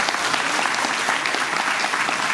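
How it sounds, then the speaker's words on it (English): A university lecture hall audience claps for a welcome speaker at a governor's lecture event, producing continuous, even applause that fills the moment without a break or any talk over it. "Please give a round of applause for him."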